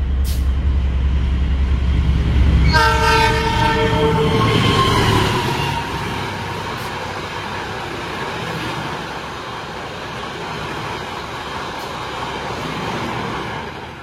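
The Sembrani express train rushes past the Kedung Sepur train at high speed, close by, with a loud rumbling roar and metallic squeal, then the rolling noise gradually fades as it moves away.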